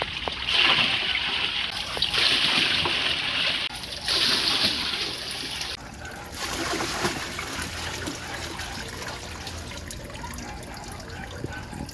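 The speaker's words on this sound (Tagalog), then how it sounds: "We're putting water now." Water pours and splashes steadily into a backyard pool pond as it is refilled after filter cleaning, a broad close splashing and trickling that surges and eases in several bursts.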